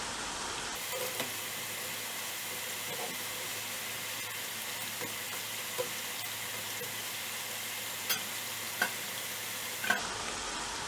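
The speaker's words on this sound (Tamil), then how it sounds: "நல்ல வடிவாக வடை பொரிஞ்சு வந்துருக்கு" Methu vadai deep-frying in hot oil, a steady, even sizzle and bubbling that runs throughout with a few faint clicks and taps from a utensil, close and moderately loud with no talk.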